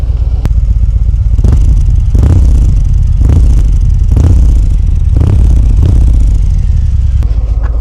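A 2025 Harley-Davidson Fat Boy Gray Ghost motorcycle exhaust rumbles loudly and steadily, with a series of repeated throttle blips rising and falling at a regular pace.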